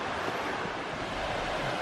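A loud waterfall roars unseen behind thick foliage, a dense, steady wash of rushing water that fills the whole moment without pause.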